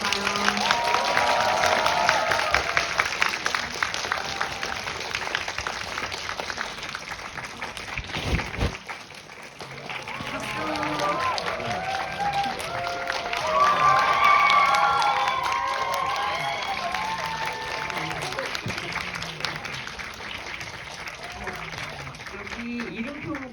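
A cinema audience at a film screening with a cast Q&A breaks into sustained, dense applause and cheering that fills the room, with voices talking and shouting through it and a brief dip in the middle.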